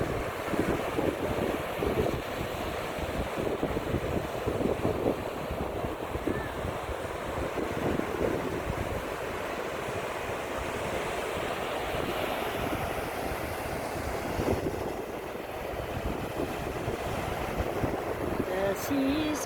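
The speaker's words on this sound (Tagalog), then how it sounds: "The sea is very calm." A calm sea washes gently against the shore, with soft continuous surf, low rumbling wash and some wind buffeting on the microphone.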